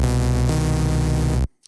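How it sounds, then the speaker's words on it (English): Tone2 Icarus 3 software synthesizer playing its init patch, a plain basic waveform held as one steady sustained tone that cuts off abruptly near the end. "So it has a basic waveform loaded"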